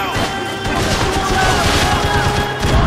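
Bursts of gunfire from the video game Max Payne 3, dense and loud, with crashing impacts layered in a busy, continuous battle mix.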